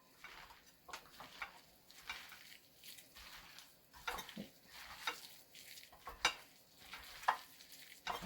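Pakora batter being mixed in a bowl, a series of quiet wet stirring strokes and soft scrapes in an uneven rhythm, growing slightly louder toward the end.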